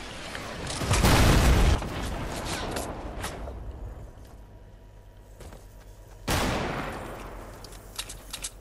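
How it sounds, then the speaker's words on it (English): Gunfire in the video game Fortnite: a dense burst of shots near the start, quieter scattered pops through the middle, then another sharp volley toward the end, with the game's ambience running under it. "We're getting shot at by someone else."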